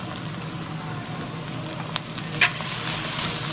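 Spices, chili powder, coriander powder and garam masala frying in a pan for a chicken curry, giving a steady soft sizzle throughout with a couple of brief clinks of stirring.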